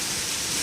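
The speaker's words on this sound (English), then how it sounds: "Look at all the hail!" Penny- to quarter-sized hail pours down in a hailstorm, a steady dense hiss of many stones striking surfaces, continuous and fairly close with no pauses.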